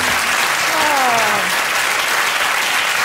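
Studio audience of a British comedy panel show erupting in loud, sustained applause and gasps of shock after a lie is revealed, a dense steady roar filling the whole stretch with a few voices rising briefly near the start.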